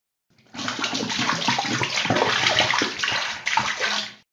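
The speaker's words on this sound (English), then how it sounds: "Poured all of it on it." Liquid Bitrex, a bitter substance, is poured out in one continuous, fairly loud splashing gush for several seconds before cutting off abruptly.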